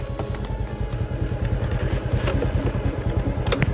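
A motorcycle climbs a steep hill toward a high village in Manyaran, Wonogiri, its engine chugging with a steady low pulse close by, with clatter and scraping from the ride and no talk.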